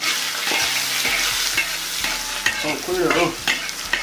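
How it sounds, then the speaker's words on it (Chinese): Freshly molted cicada nymphs are being stirred in hot frying oil, a close, continuous sizzle with repeated scraping and clattering strokes. A voice speaks briefly over the cooking near the end. "这个就油炸啊"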